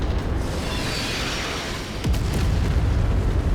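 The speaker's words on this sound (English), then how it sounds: "sneaky artillery ambush at the end" Artillery shells explode in the MechWarrior 5 video game, a loud, continuous rumbling barrage with a heavier boom breaking in partway through, and no voices over it.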